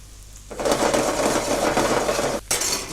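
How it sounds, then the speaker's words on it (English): Steady crackling sizzle of onion frying in a pan, starting abruptly and continuing loud and close, with a brief dip near the end. "Now as that's frying off and cooking off slowly"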